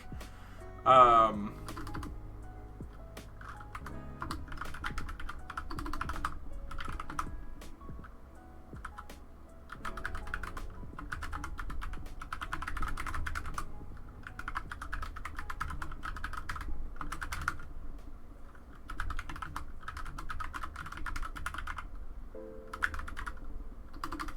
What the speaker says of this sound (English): can you hear my typing?